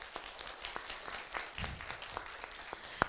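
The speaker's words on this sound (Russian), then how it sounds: "еще раз, Казань, аплодируем." Students in a Kazan university studio clap during a televised link with Tajikistan, a steady wash of moderate applause with scattered sharper claps and no talk over it.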